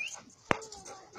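An American Bulldog gives a single short, sharp whimper or yip in the middle of a quiet moment, fairly close, with faint background sounds around it.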